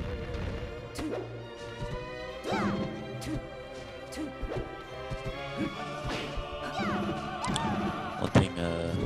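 Peach and Marth landing down smash attacks in a Super Smash Bros. match: repeated sharp crashing hits and whacks scattered over a bed of game music, moderately loud, with a heavier impact near the end.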